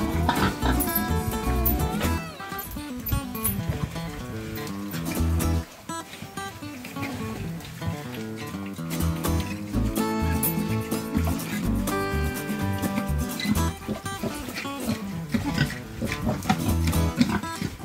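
Pigs in a fly-plagued farm pen grunt and oink while loud music with a steady beat plays over them, the animal sounds only partly audible beneath it.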